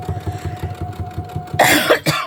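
A sudden harsh cough, two rough bursts close to the mic, breaks over a steady low mechanical hum with faint rhythmic thumping.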